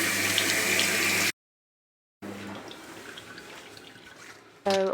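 Water runs steadily from a tap into a sink being cleaned, a broad constant rush that cuts off briefly, then resumes at a softer level before a louder burst returns at the end.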